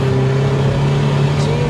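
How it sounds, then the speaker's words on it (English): A Skoda Fabia vRS diesel hatchback tuned to 353 bhp accelerating hard, heard from inside as a loud, steady droning engine note with road roar and no talk. "Yeah, this is a quick diesel car."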